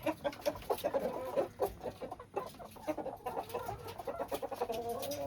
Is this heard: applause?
no